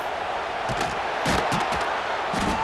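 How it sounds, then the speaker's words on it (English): Stadium crowd noise in the NCAA Football 26 game, a dense, steady roar of the crowd with a few louder bursts and thuds rising out of it. "This crowd bringing the energy and noise early."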